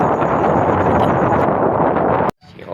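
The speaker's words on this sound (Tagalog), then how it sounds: "Hangin." Strong, steady wind buffets the microphone with a loud continuous roar near Banyaga Bridge on a fishing road trip, then cuts out abruptly with a sharp click just before the end.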